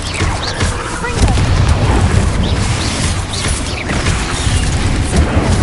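Confringo fire-blast spell in a Hogwarts video game, loud booming bursts over a dense, continuous rumble of game combat, with talk mixed in.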